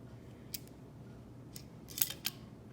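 Large kitchen tongs with a locking mechanism give off a handful of sharp, light metallic clicks, spaced irregularly and fairly quiet over a soft background hum, with a quick double click near the end.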